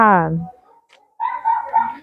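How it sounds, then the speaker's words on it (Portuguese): A dog barks in a home, one sharp yelping bark followed by softer whiny vocalizations a moment later, close and fairly loud. "o cachorro não quer parar de latir"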